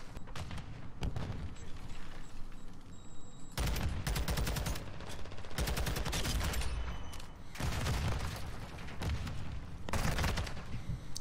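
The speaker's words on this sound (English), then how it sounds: "He is shooting so fast" Rapid enemy gunfire in a video game, arriving as several dense, loud bursts of shots separated by brief lulls, with booming impacts mixed in.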